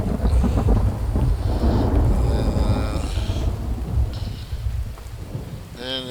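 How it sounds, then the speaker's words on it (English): Steady, heavy rain fills the scene in the survival game The Infected, a dense close wash of drops with a low rumbling undertone throughout and no talking. "And it had to rain"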